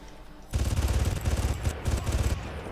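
Rapid automatic gunfire rattles in the Far Cry video game, a dense loud burst of rapid shots lasting about two seconds after a brief quieter lead-in.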